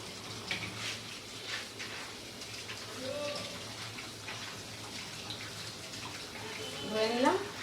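Something being washed in a bowl under running tap water, a soft, fairly faint trickle and splash that continues throughout, with someone speaking over it at points.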